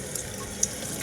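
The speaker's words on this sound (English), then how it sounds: "I just put them under the sink, turn the water on" Cool tap water runs steadily into a kitchen sink over frozen shrimp to thaw them, a continuous close splashing stream with a few small clinks, no voices.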